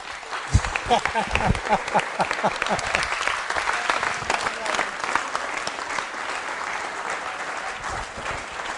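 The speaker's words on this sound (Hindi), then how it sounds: "तालियां जोरों से बजाइए, जोरों से बजाइए" Loud applause from the audience at a school quiz show, crowd clapping building from sharp individual claps into a thick sustained roar, with some voices mixed in.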